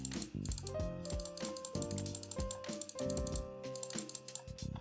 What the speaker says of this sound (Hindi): ये माउस का क्लिक था।